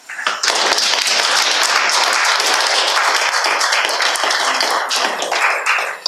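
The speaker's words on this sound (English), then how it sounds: "Let's clap." A church congregation claps together in sustained, loud, dense applause that lasts throughout and tapers slightly at the end.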